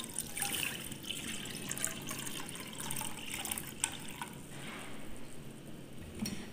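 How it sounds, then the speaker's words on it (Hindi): Water trickles and pours steadily into a kadai pan at close range, a continuous liquid dribble with no talking, before vermicelli is boiled. "सबसे पहले मैं कढ़ाई में डालूँगी पानी।"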